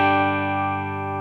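Electric guitar chord with a clean tone, played right after tuning, ringing as one sustained strum that slowly decays with no talk over it.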